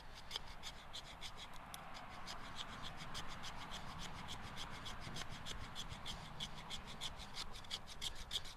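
A Mora Craftline knife shaves down a stick of resinous fatwood in steady, quick scraping strokes, a close, quiet rasp repeating evenly throughout with no talk.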